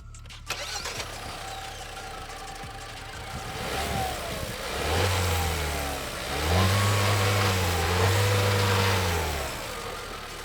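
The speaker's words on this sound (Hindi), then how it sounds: "एक बार इसके हाइपीरियन पेट्रोल इंजन की भी नॉइस सुन लेते हैं।" Tata Sierra with the Hyperion 1.5-litre turbo petrol engine cranks and catches, then idles steadily before two smooth, rising revs and a sustained higher rev, heard close and alone with no talk.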